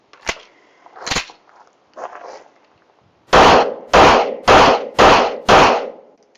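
Several gunshots from a Tisas PX-9 GEN3 pistol during a function test: a few softer pops, then five loud, sharp reports fired in quick, even succession, close and alone.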